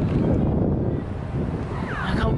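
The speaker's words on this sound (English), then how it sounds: "And it's so windy." Strong wind buffets the microphone outdoors, a loud, rumbling low roar that surges and eases without any talking.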